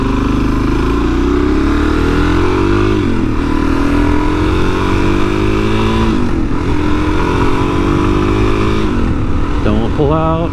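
Suzuki DRZ-400S dual-sport motorcycle ridden on the road, its single-cylinder engine loud and close, rising through the gears with repeated revs and shifts, wind rushing over a helmet microphone and no talking.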